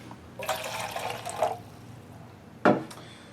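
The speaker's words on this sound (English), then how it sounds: "put a little more water in the black mollies here so they don't get too freaked out" Water is poured into a fish transport bag holding black mollies, a close, splashy pour of about a second followed by a short sharp splash, with no talking.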